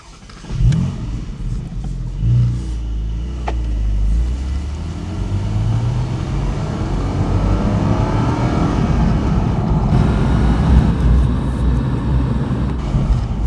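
A 2025 Porsche 718 Boxster GTS 4.0 sports car drives off and accelerates, its engine note climbing loud and close into a sustained rising roar.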